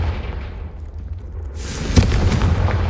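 A Confringo blasting spell goes off in Hogwarts Legacy as a sudden loud explosive burst, with a crackling rush of debris trailing after the low rumbling buildup.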